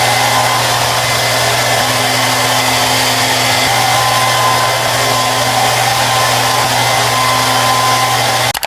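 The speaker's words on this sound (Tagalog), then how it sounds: "Mag-blower lang tayo ng hair." A hair dryer blows hair continuously at close range, a loud, steady whirring roar with a constant hum that runs unbroken until it cuts off at the end.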